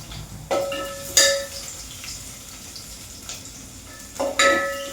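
Cumin seeds and garlic frying in a spoonful of oil in a pan for palak paneer: a soft, steady sizzle broken by a few sharp spoon-on-pan clinks and scrapes, with no talking.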